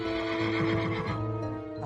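A horse whinnies loudly and close, with a long wavering neigh that stands alone, set at a royal jousting accident at Greenwich Palace in 1536 where an armoured horse fell on its rider.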